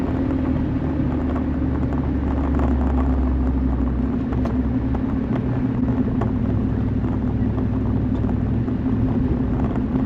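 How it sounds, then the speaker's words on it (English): A 31-year-old Ford F250 truck slowing on a long 6% downhill grade gives a steady low engine rumble with constant droning cab noise throughout, close and continuous with no talk. "I'm gonna go ahead and try to slow this truck down now."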